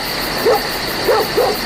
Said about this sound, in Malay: Bunyi anjing pula.